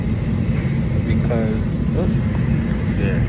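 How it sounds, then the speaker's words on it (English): Cabin of a passenger airplane waiting to take off, a steady low engine drone and hum running throughout beneath a person speaking briefly. "We are actually on the plane right now, about to take off."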